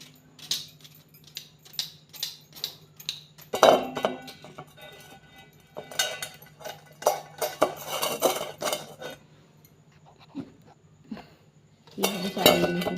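A spoon works through rice paratha dough in a bowl, making repeated clinking and scraping strokes in uneven bursts, some louder and busier than others, with short quieter gaps between them.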